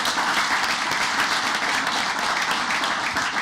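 At a school board meeting, the audience gives a sustained round of dense, even applause, many hands clapping steadily at close range with no break.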